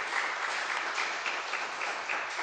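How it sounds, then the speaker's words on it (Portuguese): A lecture audience applauds to welcome the first speaker of a talk on serverless architecture. The clapping is steady, dense and continuous, with no talking over it. "Uma grande salva de palmas para o nosso primeiro palestrante"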